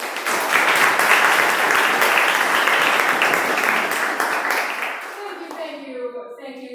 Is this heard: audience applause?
yes